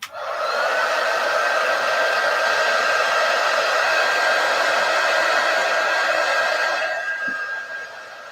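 A hair dryer blows steadily and loudly at close range for about seven seconds, drying a spot on a scrap wood sign, then switches off and winds down.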